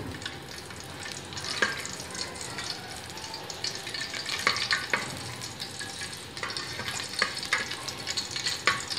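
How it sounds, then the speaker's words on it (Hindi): Ghee melting over high heat in a pan while making jaggery rice: a steady, close sizzle with scattered crackles and pops, plus soft stirring scrapes, and no voice over it. "थोड़ी सी आँच ज़्यादा कर दें ताकि ये घी अच्छे से मेल्ट हो जाए।"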